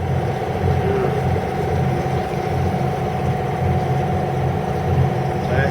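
A sailboat's engine runs steadily at close range while leaving an anchorage, a constant low throbbing hum that holds an even pitch throughout, with no voices.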